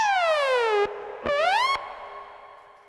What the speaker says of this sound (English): So that's just a straight up delay,